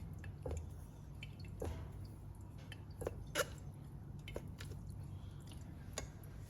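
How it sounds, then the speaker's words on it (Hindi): Raw green mango pulp pressed through a strainer, juice trickling and dripping down in soft irregular drips with small squishing sounds, quiet and close in a kitchen, no talk. "इस तरीके से प्रेस करके सारा पानी कैरी का नीचे गिरा दें।"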